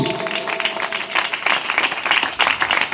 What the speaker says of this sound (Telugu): గట్టి చప్పట్లు కావాలి